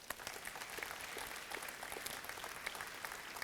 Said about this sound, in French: merci à vous, on les applaudit